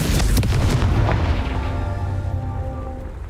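Confringo blast spell cast in Hogwarts Legacy, a single loud booming explosion that rolls off into a fading rumble with no voices over it.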